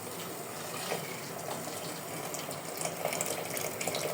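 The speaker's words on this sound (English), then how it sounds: "Now we're gonna add some more hot water" Hot water pours steadily into a cooking pot in a home kitchen, a continuous close gushing splash that holds at an even level throughout with no voices.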